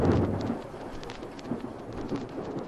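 A heavy downpour pours steadily with rolling thunder rumbling beneath it outside in Metz, a dense constant wash of rain with no voices.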